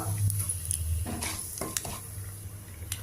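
Tempering spices (urad dal, cumin, mustard seeds, broken dried red chillies and asafoetida) sizzle in hot oil in a pan, with a steady close fry broken by light stirring clinks and small pops, no voices.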